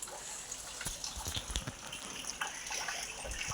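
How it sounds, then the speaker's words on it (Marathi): Heavy monsoon rain falls near a forest, a dense continuous wash of water with scattered louder splashes and drips, steady and fairly close with no talk. "आमच्या इकडं असा पावसाचा धुमाकूळ चालू आहे"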